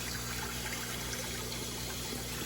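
Water conditioner poured into a guppy tank, giving a steady, continuous trickle and splash of liquid into the water, fairly close and constant.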